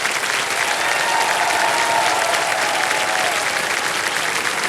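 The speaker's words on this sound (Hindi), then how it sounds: "ताली बजते रहे इनके लिए" Studio audience of a televised quiz show applauds steadily for a contestant, a dense, even wash of clapping from many hands held at constant loudness with a faint voice beneath.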